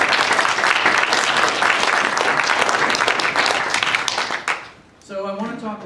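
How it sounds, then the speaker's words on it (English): An indoor audience at a justice teach-in claps in steady, dense applause for about five seconds before it drops away and a voice begins speaking. "let's just have a round of applause for the people that help us"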